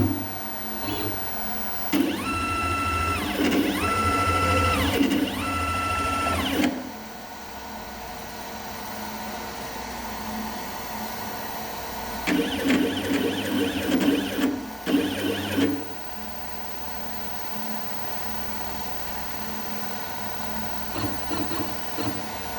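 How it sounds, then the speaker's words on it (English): A CNC machine jogs toward its work zero position in bursts of whirring servo motor drive with rising and falling pitch, separated by steady humming machine noise, heard close and alone without talk. "I'm going to go ahead and jog the machine to the work 0 position."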